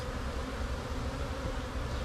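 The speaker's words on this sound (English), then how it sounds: "This hive's been open for way too long, and the bees have not been happy about it." Bees buzzing around an open beehive that has been left uncovered too long, a dense, continuous droning swarm, loud and close with no pauses.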